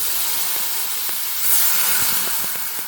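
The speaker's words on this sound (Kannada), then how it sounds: "ಇದಾದಮೇಲೆ ಒಂದು ಸ್ವಲ್ಪ ಹಾಲು ಹಾಕ್ತೀನಿ ನಾನು" Milk poured into melted butter in a hot pan on low heat while making white sauce pasta gives a steady broadband sizzle and hiss, with faint scattered clicks and a brief swell midway.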